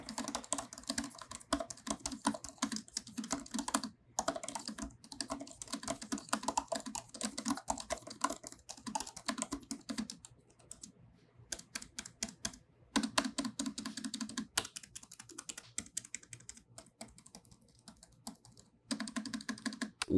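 Rapid typing on the keyboard of a 14-inch M1 MacBook Pro from 2021, crisp quiet key clicks in fast bursts with a few short pauses, close and alone.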